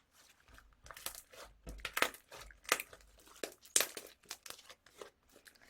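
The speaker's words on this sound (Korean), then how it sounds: "쉐딩 폼을 낸 슬라임답게 소리가 좋군요." Close, crackly squishing of iceberg-style slime with sharp crinkling pops, several louder bursts standing out over softer continuous squelching, no voices.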